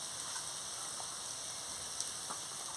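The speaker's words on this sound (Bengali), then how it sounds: "দিয়ে একটু সামান্য জল দিয়ে মশলাটাকে ভালো করে কষিয়ে নিচ্ছি।" Spice paste of ground coriander, cumin and chopped tomato sizzling steadily with a little water in a pan, a faint, even crackle with occasional small pops.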